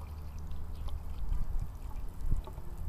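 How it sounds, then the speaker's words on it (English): Water is poured slowly through a funnel down a musket barrel during cleaning, making a close, gurgling trickle with soft uneven splashes over a few seconds. "So, pour this down the barrel, and you do it slowly."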